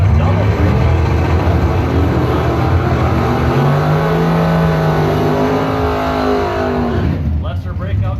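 Mopar 1967 Dodge Dart drag car roars hard off the line at a bracket race, a loud, sustained engine blast that carries for several seconds before fading, with an announcer talking over it.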